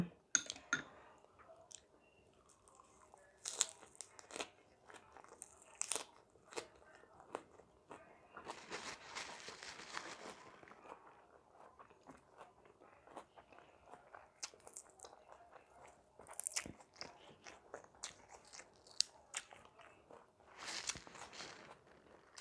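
Close, quiet chewing and biting of salmon dipped in spicy seafood sauce, with soft irregular crunches, clicks and squishy mouth sounds spread across the whole stretch.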